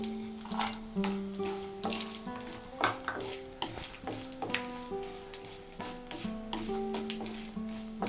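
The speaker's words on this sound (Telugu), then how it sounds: "జీడిపప్పు కూడా వేగిన తర్వాత" Soft crackling sizzle of cashews frying in hot ghee, popping in quick irregular bursts under a gentle melodic tune playing in the background.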